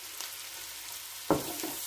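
Garlic and ginger frying in a pan, a soft steady sizzle with a brief louder scrape or stir partway through, no talking.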